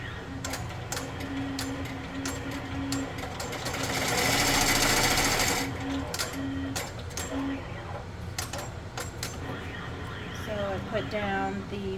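An embroidery machine sews a placement stitch for fabric applique, its rapid mechanical needle chatter running steadily and close, swelling louder midway, while a person talks over it.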